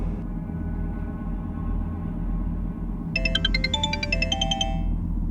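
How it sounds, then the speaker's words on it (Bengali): A phone rings in a suspenseful crime drama: a bright electronic ringtone melody starts partway through and chirps in quick repeated notes over a low, rumbling ambient background. "ফোনটা আবারও রিং হয়।"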